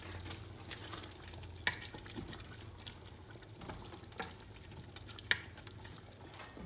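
Chili powder being mixed into chicken for biryani, soft wet stirring with a faint sizzle and a few sharp utensil knocks against the pot, quiet and close.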